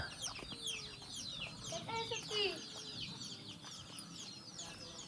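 Free-roaming village chickens cluck and chirp in a short, lively outdoor burst, moderately close over light background noise and faint voices.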